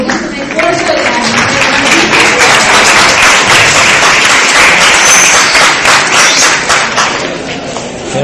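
A classroom audience applauds a teacher at the end of a lesson, a steady wash of many hands clapping loudly and continuously throughout, with voices mixed in.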